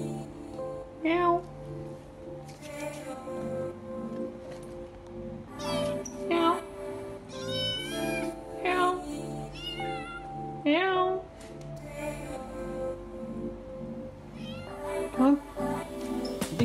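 A young calico kitten meows repeatedly, a series of close, clear cries spaced irregularly across the stretch, with a person's voice also imitating the meows.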